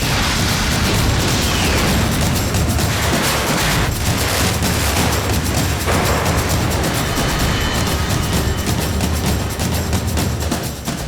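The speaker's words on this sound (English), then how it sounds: "linked to either the shaped cutting charge or the jelly mix explosives that will blow down the building" Demolition explosives bringing down the tower and conveyors of Blyth Power Station, a continuous loud rumbling roar with crackling bursts lasting throughout, dense and sustained rather than a single blast.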